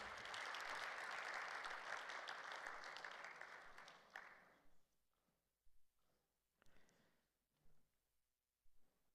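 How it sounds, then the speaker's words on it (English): A summit audience claps loudly for several seconds, then the applause fades out, leaving a few scattered sounds and quiet. "A round of applause, please, ladies and gentlemen."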